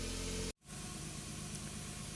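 A 2000 Smart Fortwo 450 engine idles while warming up, a steady hissing, even hum that drops out for a split second and then resumes at a constant level, heard alone without speech.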